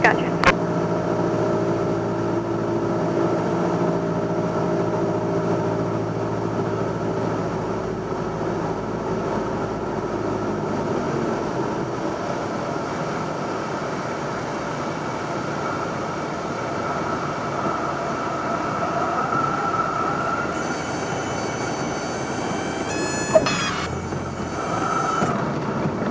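A small single-engine airplane drones steadily through landing practice circuits, a loud continuous cabin hum with engine tones shifting near the end, as people talk over it through the intercom.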